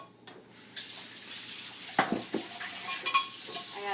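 Kitchen cleanup at a stovetop, with a pot being rinsed out by hand under running water, scraping and clinking of dishes and utensils in short bursts, fairly close.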